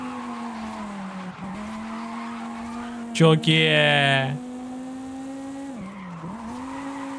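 Car tires skid with a sharp squeal lasting about a second after the handbrake is pulled on a BMW M3 in the racing game Forza Horizon 5, over a steady engine drone, with someone speaking briefly.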